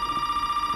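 A telephone rings in Resident Evil 7, a steady electronic tone held unbroken for under a second at moderate loudness.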